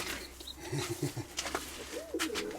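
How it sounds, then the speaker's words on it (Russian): Pigeons coo in a rooftop loft, soft repeated throaty calls close by with a few brief higher chirps, quiet overall and no talking. "Чиї тут голуби?"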